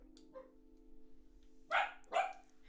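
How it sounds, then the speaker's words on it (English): A household dog barks: one faint yip first, then two loud, close barks in quick succession over a steady low electrical hum. "Oh, that's my dog going off."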